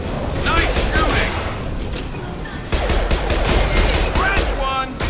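Rapid automatic gunfire and heavy shots in a Mass Effect 2 battle, dense bursts with booms and cracks that pause briefly near the middle, then resume loudly.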